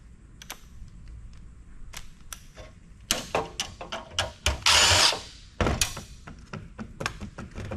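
A power driver backs Torx screws out of cast aluminum peg holders on a Dell PowerEdge server. It gives short, close whirring bursts between clicks and knocks, with one longer, louder spin in the middle.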